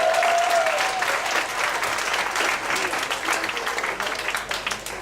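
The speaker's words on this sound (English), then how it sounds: "I would like you to give a big applause to Tara, Odek, and also betelNut crew" An audience at a PechaKucha night at a venue in Ubud, Bali, claps loudly and steadily, a dense wash of many hands that eases off slightly toward the end.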